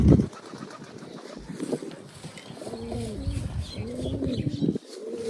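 Pigeons in a new rooftop setup give several low, wavering coos in succession, close and moderately loud, after a short thump at the start.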